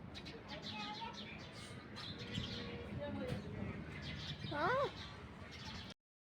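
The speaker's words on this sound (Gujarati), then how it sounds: "અહીંયા પણ ચકલીઓ છે" Sparrows chirp in scattered bursts at a roadside tea stall, with a brief louder rising call near the end, all under steady outdoor background noise and voices nearby.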